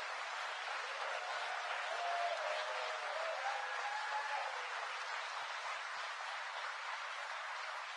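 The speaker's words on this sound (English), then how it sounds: "So if you would all give a round of applause to all of the people who work at the site." A round of applause from the audience at an IBM Poughkeepsie jobs event honours the site's workers, a steady dense wash of clapping that holds evenly throughout with no voices.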